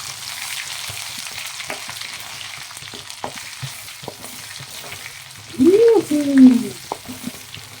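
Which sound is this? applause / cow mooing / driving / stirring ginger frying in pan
stirring ginger frying in pan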